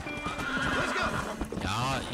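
Horse neighing with clip-clop hooves in the Red Dead Redemption video game on PlayStation 3, a rising whinny near the end over steady hoof beats, with someone talking across much of it.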